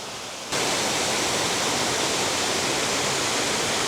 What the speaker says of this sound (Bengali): বেশ সুন্দর ঝর্ণা